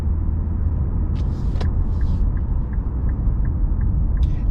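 An Infiniti car with a naturally aspirated V6 of about 325 horsepower and a Helmholtz sport exhaust, a steady low rumbling drone with faint clicks and a few airy hisses over it, heard close and alone.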